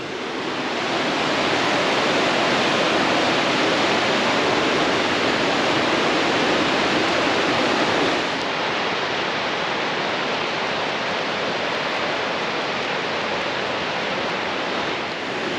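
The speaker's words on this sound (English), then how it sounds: "the rapid from right now looks almost unrecognizable to me, but yeah, check it out." River rapid at Sulphur Slide on the Middle Fork Salmon River, a loud, steady roar of rushing whitewater filling the air close by, constant and unbroken with no voices.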